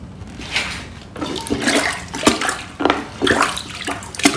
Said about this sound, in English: I'm gonna go ahead and use the plunger